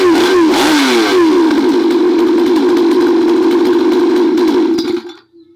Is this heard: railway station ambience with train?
no